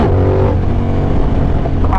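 A motorcycle engine roars steadily at high revs in third gear during wheelie practice, loud and close throughout with a sustained droning tone and a slight pitch change near the end.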